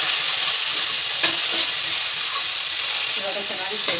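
Food frying with turmeric in a pan, a loud dense hissing sizzle close up that holds steady with a few faint stirring taps.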